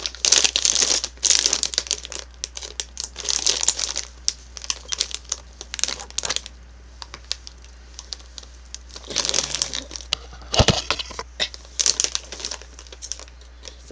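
A plastic bag of Jolly Rancher Gummies Sours is crinkled and pulled at in attempts to tear it open, loud close-up crackling in bursts with quieter gaps and a sharp thump near the end.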